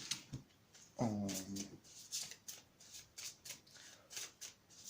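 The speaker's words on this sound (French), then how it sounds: "On va prendre les cartes de tarot, mais les arcanes majeures que j'ai juste là." Tarot cards being shuffled: a string of soft, quick papery riffles and flicks repeating close by, with a brief growl-like dog sound near the start, quiet overall.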